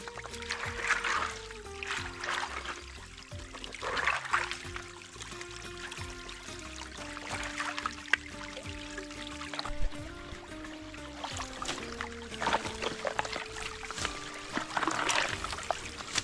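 Water trickles and pours steadily at a woodland spring being cleaned out, a close, continuous liquid sound with occasional splashes and a faint low hum running underneath.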